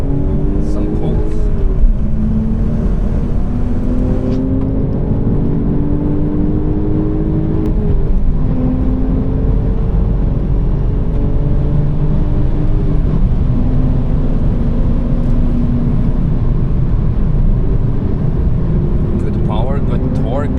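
An Audi S4 B5 engine pulls hard on the Nürburgring, heard from inside the car as loud, rising revs that climb and drop through several gear changes, with voices talking over it.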